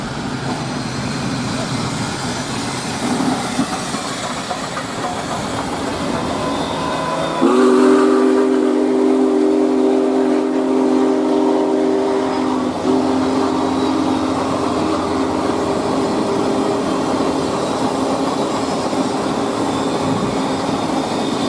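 The Union Pacific Big Boy steam locomotive rumbles steadily past with a continuous roar, and a long whistle blast sounds partway through before the rolling noise carries on.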